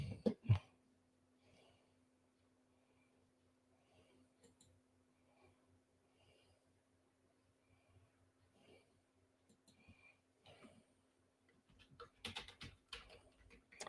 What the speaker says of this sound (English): When I'm typing, can y'all hear that with this mic?